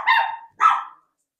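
Two loud, close dog barks ring out in quick succession, with a short gap between them and silence afterward.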